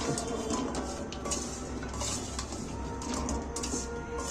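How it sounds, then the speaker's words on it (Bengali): Chicken stirred in a pan after a spoon of soy sauce, a continuous close sizzle broken by repeated light scrapes and clinks of a spatula against the pan. "এইবার আমি এইটাকে ফের নাড়াচাড়া করে নিচ্ছি"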